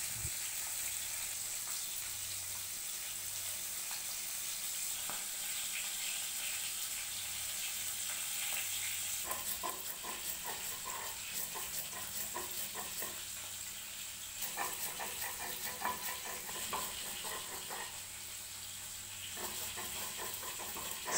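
Fish frying in a pan, a soft continuous hiss and sizzle with occasional crackling bursts that grow busier partway through, steady and moderately quiet, no talking.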